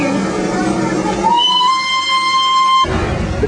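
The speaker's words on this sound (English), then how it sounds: "The train just left." Old coal-fired steam train on track laid in 1880 pulling away, a steady whistle-like tone held for about a second and a half over rumbling rail noise, fairly loud and close.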